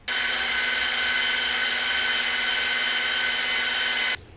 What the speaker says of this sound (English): Notice how I'm moving the cylinder hone up and down as I hold the trigger on the drill.